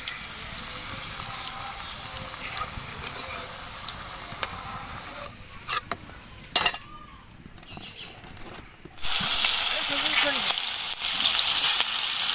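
Radish slices frying in hot oil give a steady sizzle, with a few clinks and stirring sounds, then a louder, brighter sizzle toward the end.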